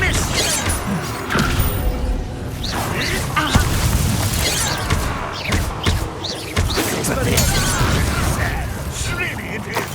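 Bombarda blasting spells in Hogwarts Legacy on PS5, with repeated booms, crashes and thuds in a dense, loud mix of combat noise. A voice talks over the impacts throughout.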